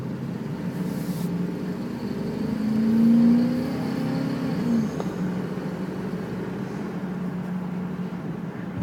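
A 2004 Dodge Ram Quad 4x4 pickup truck engine idles steadily with a low, smooth rumble, rising briefly in a gentle rev before settling back.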